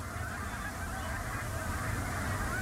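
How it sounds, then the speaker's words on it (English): Pacific black brant geese honk at a coastal Alaska wildlife refuge during migration, a steady chorus of many overlapping calls against a constant wash of background noise, moderately loud, with no talking. "a small coastal goose whose entire population stops at the refuge during migration"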